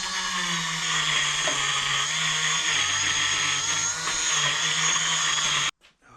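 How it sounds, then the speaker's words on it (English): A Dremel rotary tool works loose stubborn parts on a Suzuki RM dirt bike being rescued, giving a steady, close, high-pitched motor whine that runs unbroken for several seconds and then cuts off abruptly. "Again, we'll loosen it all up with the Dremel."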